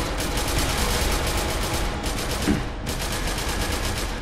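Gunfire in the video game SCP: Secret Laboratory, aimed at a zombie: a loud, dense, continuous stream of rapid shots that barely lets up for several seconds.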